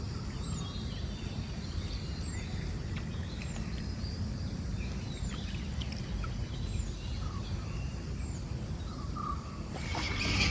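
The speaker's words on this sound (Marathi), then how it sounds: "सायलंट आहे एकदम पक्ष्यांचा आवाज आणि काय नाही" Scattered bird calls sound faintly from a distance by a river, short chirps spaced across a quiet, steady outdoor rumble of water or wind.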